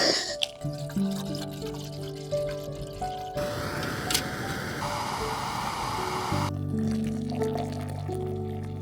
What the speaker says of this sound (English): I dropped half the water on the floor